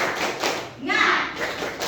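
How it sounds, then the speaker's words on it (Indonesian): A classroom of children doing a rhythmic spirit clap, a few quick bursts of clapping and thumping with children's voices calling out alongside, close and lively. "tepuk semangat"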